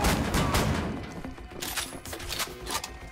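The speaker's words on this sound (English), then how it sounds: "it's entirely possible for my allied AI people to shoot me in the back completely by accident" Rapid bursts of gunfire from allied AI soldiers in the shooter Wolfenstein: The New Order, dense overlapping shots at first, then scattered sharper cracks and impacts, with no one talking.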